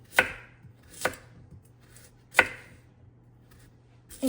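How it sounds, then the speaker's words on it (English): Sharp knife chops through sweet potatoes on a cutting board, four distinct thuds spaced irregularly with quiet pauses between, close and alone. "I'm going to start by chopping up all of the sweet potatoes"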